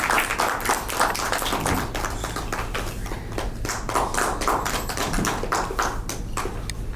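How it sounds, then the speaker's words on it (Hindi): Dense, continuous applause from an audience welcoming a guest journalist onto the stage at a literary event in Bhopal, loud and sustained throughout with a low hum underneath. "आइए जोरदार तालियों से उनका स्वागत करती हूँ"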